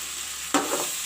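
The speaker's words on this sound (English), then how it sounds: "I will let this fry a bit again." Okra and potatoes fry in a pan with a steady sizzle, then a single near scrape and rustle of stirring breaks in halfway through, followed by continued sizzling.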